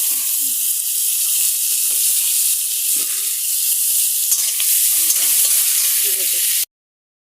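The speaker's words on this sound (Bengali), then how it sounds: "তারপরে দিয়ে দিলাম টমেটো কুচি" Chopped tomatoes tipped into a pan over chopped onions set off a loud, steady hiss of frying that holds evenly with faint clinks beneath, then cuts off abruptly near the end.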